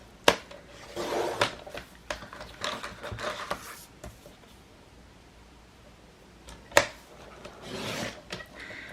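A paper trimmer slices 12 by 12 scrapbook paper, giving quiet rasping slides of the blade punctuated by a couple of sharp clicks, fairly faint and close.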